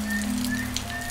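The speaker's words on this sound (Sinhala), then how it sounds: "අද උදේ ඉඳලා මේ වැස්ස." Rain pours down outside a shrine, a steady close hiss of drops running unbroken through the short stretch with a faint low hum beneath.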